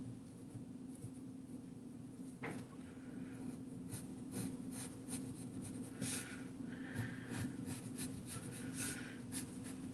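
A black colored pencil is pressed hard against paper, drawing lines in repeated scratchy strokes, close and steady over a faint background hum, with no talking.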